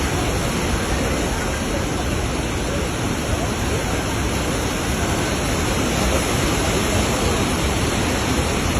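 A flooded river in Sri Lanka rushes past in a loud, constant roar of churning water. The torrent stays steady and close throughout, with no pause.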